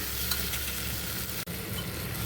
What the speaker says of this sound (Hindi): अब ये जो टमाटर हैं इनको हम सॉफ्ट होने तक पकाएंगे।